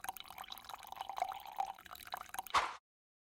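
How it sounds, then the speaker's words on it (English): Milk poured into a measuring cup while making mooncakes, a steady close trickle and splash of liquid lasting a few seconds before stopping abruptly. "Now we're going to pour 200 milliliter of milk into the measuring cup."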